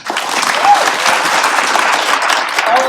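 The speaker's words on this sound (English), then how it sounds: "another just round of applause for Aaron Montoya" An audience applauds at a high school college commitment ceremony, steady dense clapping held loud and close for the whole stretch with no pauses.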